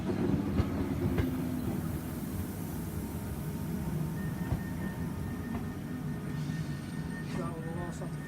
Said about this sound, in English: Freight service.